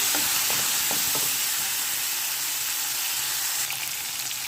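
Tomato pieces frying in a little oil in a pan give a steady, close sizzle with a broad hiss and faint clicks and stirring underneath, continuous throughout.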